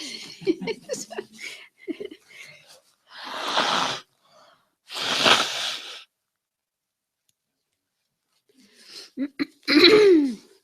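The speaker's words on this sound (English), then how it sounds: "I try to talk without coughing so much" Several harsh coughs in separate bursts between stretches of quiet, close to the listener, with brief talking at the start and end.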